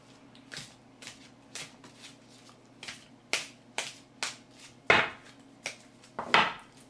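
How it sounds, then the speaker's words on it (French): A deck of tarot cards being shuffled by hand, heard as a series of crisp, separate slaps and riffles at a steady pace. It is close and clear, with no talking. "je suis en train de battre les cartes pour tirer la carte de conclusion"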